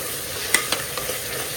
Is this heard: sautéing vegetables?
yes